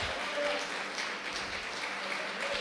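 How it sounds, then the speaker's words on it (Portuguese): A church congregation applauds during a Portuguese-language sermon, a fairly faint, steady wash of clapping with voices mixed in. "Aplauda o Senhor em nome de Jesus."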